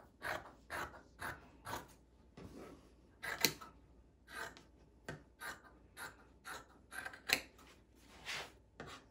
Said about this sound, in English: cut all 3 layers at once of some scraps that might not have been loved for anything else